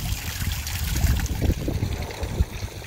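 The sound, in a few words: water trickling from a garden fountain sculpture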